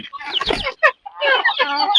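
Free-range village chickens cluck close by in short, clipped bursts with a brief pause in the middle.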